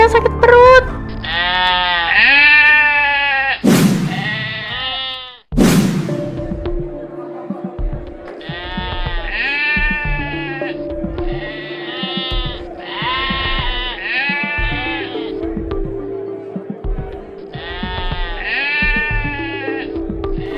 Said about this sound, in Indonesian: Kok kambingnya kayak mau muntah gitu sih?